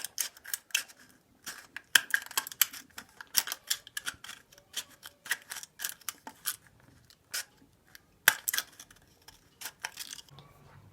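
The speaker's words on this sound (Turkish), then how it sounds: "Makasla uçlarını düzeltiyoruz yamuklarını" Sharp, irregular snips and clicks of scissors trimming the cut edges of a plastic cola bottle, close up, with short gaps between cuts.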